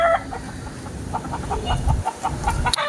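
Several hens cluck in short repeated bursts at close range in a backyard garden, with steady low outdoor rumble underneath and no talking.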